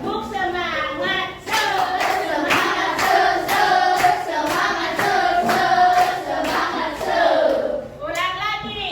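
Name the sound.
children doing a rhythmic spirit clap (tepuk semangat)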